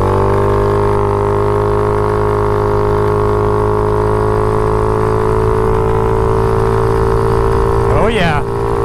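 A scooter engine fitted with a Reveno clutch runs steadily at a constant idle, a loud continuous hum, with a brief rising rev near the end.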